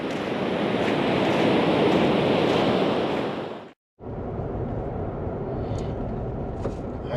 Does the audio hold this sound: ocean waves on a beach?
yes